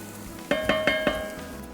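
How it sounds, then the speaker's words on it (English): Chopped onion and garlic sizzling in a pan for mushroom uni risotto, a soft frying hiss broken by four quick stirring scrapes, close and alone. "So after adding the onion, you hear it sizzling off."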